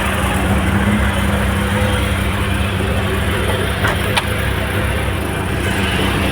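Land Rover Series 1 engine running on a farm, a loud steady idle rumble close by, continuous throughout with a faint click or two.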